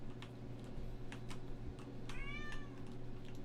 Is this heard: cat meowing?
yes